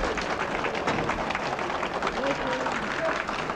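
Crowd applauding and cheering at a 1974 event in Turkey marking actor Yılmaz Güney's release from prison, a dense, steady wash of clapping with voices mixed in throughout.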